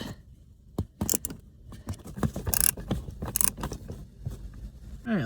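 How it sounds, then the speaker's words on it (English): Screws snugged up on a dashboard part of a 1999 third-generation Toyota 4Runner, a series of close sharp clicks, ratcheting ticks and small plastic knocks in irregular bursts. "And I'll just snug it up."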